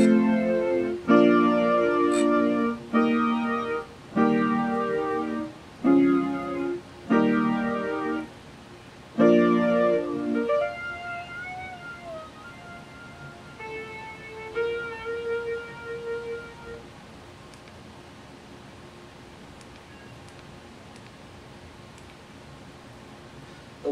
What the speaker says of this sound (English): FM brass.